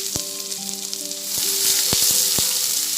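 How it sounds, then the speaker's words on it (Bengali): Medium-sized chopped onion frying in hot oil in a pan, a continuous close sizzle with a few sharp crackles and a scrape of stirring, no voices. "পেঁয়াজটা হালকা বাদামি হওয়া পর্যন্ত আমি একটু ভেজে নেব।"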